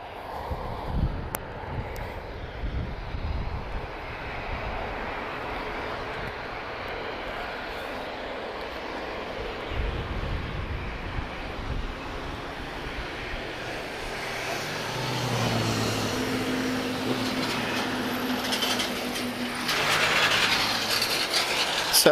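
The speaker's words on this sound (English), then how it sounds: "So TP1867 off to Ponta Delgado. This is Tango Juliet Juliet. A321 Neo." A TAP Airbus A321neo airliner departing Lisbon Airport on flight TP1867, a steady broadband jet roar that builds toward the end, heard from a distance under wind noise.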